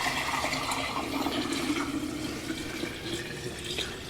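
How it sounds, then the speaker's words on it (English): Homemade fermented Tabasco sauce poured steadily into a half-gallon jar, a continuous close liquid stream and splash running the whole time with no talking. "So we're going to pour it into this jar right here"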